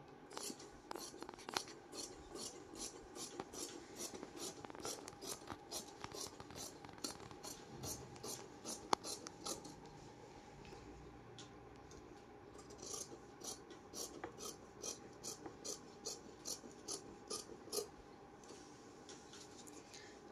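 Scissors snip through folded saree fabric being cut into a top, a quiet, close series of short crisp cuts in uneven bursts with brief pauses between.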